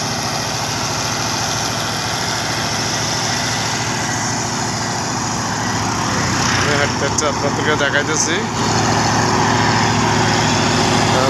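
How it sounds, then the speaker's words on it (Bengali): A sand-carrying trawler boat's engine drones steadily and loudly, close by, with a rough chugging rhythm, while someone talks over it. "এটা হচ্ছে ট্রলার এই দিয়ে বালু আনছে"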